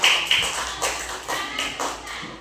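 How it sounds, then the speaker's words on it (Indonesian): Schoolchildren in a second-grade class clap their hands in a few short bursts of quick, close claps, with slight shuffling between them. "Tepuk tangan untuk yang ke sekolah"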